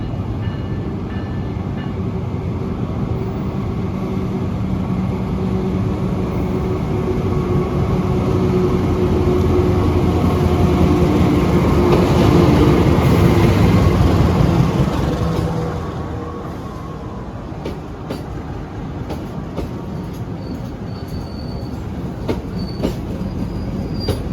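A passenger train travelling on rails between Cilacap and Jogja, a loud continuous rumble with wheel noise that swells midway and then eases into a lighter rattle with faint clicks and squeals.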